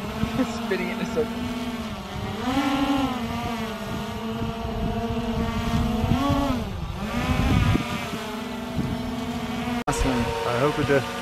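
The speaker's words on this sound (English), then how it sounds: "So right now Ben's not even flying the drone." A small quadcopter drone buzzes steadily in the air, its whine rising and dipping in pitch as it hovers and maneuvers nearby, with people talking faintly underneath.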